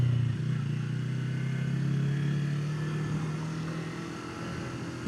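A two-cylinder beginner motorcycle is ridden onto a gravel road, its engine holding a steady low drone that rises slightly and then eases off over several seconds. The sound is close and there is no talk.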